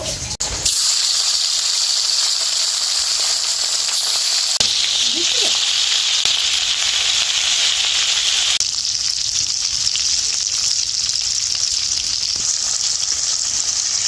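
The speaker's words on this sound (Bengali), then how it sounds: "এইবার এই মাছগুলো খুব হালকাভাবে ভেজে নামিয়ে নেব।" Hilsa fish pieces coated in spice paste frying lightly in hot oil, a loud continuous close sizzle and hiss that shifts in intensity as pieces are added and turned.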